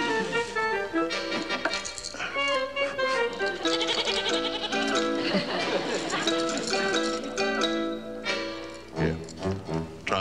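A man in the TV sitcom The Munsters imitates a goat, letting out a run of wavering, nasal bleats in a row, with other voices talking around them.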